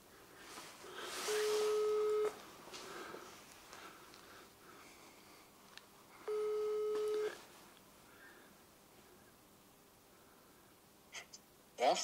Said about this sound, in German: ich rufe die jetzt an